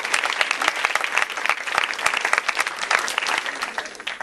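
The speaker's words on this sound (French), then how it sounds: "des applaudissements pour eux" A live audience at a student event applauds, a dense, steady burst of many hands clapping, fairly close and loud, with scattered crowd noise mixed in.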